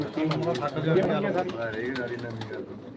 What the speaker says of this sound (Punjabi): ਬਹੁਤ ਹੀ ਖੂਬਸੂਰਤ ਕਬੂਤਰ ਵਾਹ